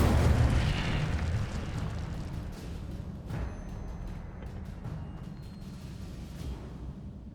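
Incendio fire spell cast in Hogwarts Legacy, a loud roaring fiery burst at the start that decays into a sustained crackling rumble, with a few softer whooshes and no talking.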